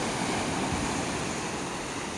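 Sea waves rush and wash in a continuous, fairly faint roar out on the water, with no voices present.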